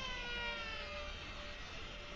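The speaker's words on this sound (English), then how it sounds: "and now her crying sounds like sirens." A wailing, siren-like crying in the horror shooter game F.E.A.R., a faint sustained tonal drone with a low rumbling bed underneath and no speech.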